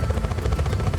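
Helicopter in the Just Cause 4 video game, a steady loud rotor thrum with pulsing low chop throughout, close and continuous with no talk.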